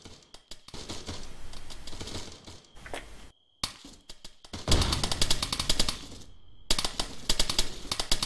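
Video game gunfire from a military training-ground shooter, rapid automatic bursts crackling in dense volleys with short gaps, moderately close and alone without talk.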